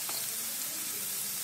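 Hing and ground spices such as turmeric hit hot oil in a pan for whole masoor dal, giving a steady, close, continuous sizzle and frying hiss throughout, with no talking.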